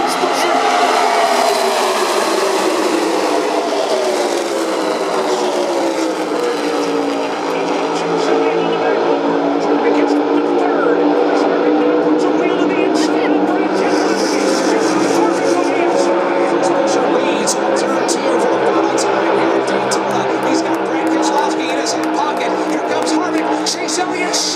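NASCAR stock cars race at the Coke Zero Sugar 400 in a dense, roaring pack that swells and slowly shifts pitch as they pass, heard from the spectator stands, with a commentator speaking over it.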